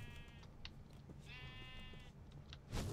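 Sheep in a video game minigame bleat a couple of times, two short wavering cries, moderately loud, over a busy low game background that ends in a burst of noise.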